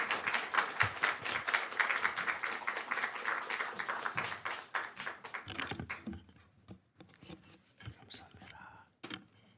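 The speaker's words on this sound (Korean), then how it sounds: "우리 교수님 나오셔서 말씀 주실 때 우리 박수로 한번 샬롬으로 환영해 주세요" A church congregation claps to welcome a visiting professor at a worship service, a brisk burst of many hands for several seconds that stops abruptly, followed by quiet murmuring and scattered small sounds.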